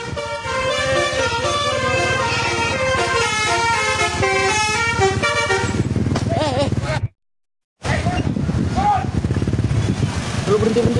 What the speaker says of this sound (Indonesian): bus telolet bising saat siswa SD tengah mengerjakan ujian hari